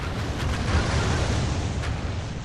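Missile troops loosing volleys in Medieval 2's Call of Warhammer mod during a Vampire Counts battle, a dense, continuous rumbling roar of massed fire with no distinct single shots.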